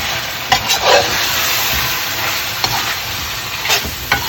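Chicken cooks in a karahi pan with a steady, loud sizzle, broken by a few scraping stirs and clinks of a utensil against the pan.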